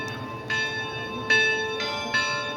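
A church bell at Kamay ni Hesus rings out in several resonant strikes with long ringing overtones that overlap and sustain between hits.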